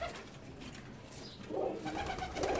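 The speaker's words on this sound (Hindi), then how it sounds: "ये इनके जो हैं कबूतर हैं, लाखी ब्रीड है इनके पास माशाल्लाह से।" Lakhi breed pigeons coo inside a loft, giving soft, throaty rolling calls that swell in two close bursts over a quiet, muffled background, with no speech.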